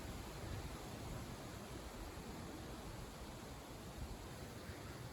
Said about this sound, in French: On a l'averse qui arrive.